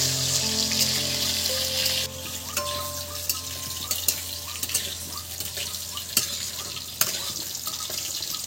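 Potatoes fry in hot oil for a Bengali aloo potol posto dish, giving a steady broad sizzle with occasional utensil scrapes and clicks from stirring; no one speaks.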